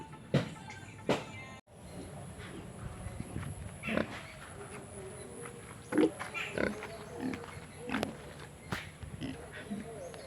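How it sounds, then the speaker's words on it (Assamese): Pigs on a farm grunting and snorting in short bursts spaced a second or two apart, over a quiet background with soft movement and faint voices. "তো গাইজ এই তিনিটা আমাৰ গাহৰি"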